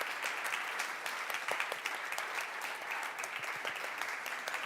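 Audience at the Start Up Energy Transition (SET) award ceremony 2022 applauding and cheering steadily as a team is called on stage, a dense, continuous wash of clapping with no talk over it.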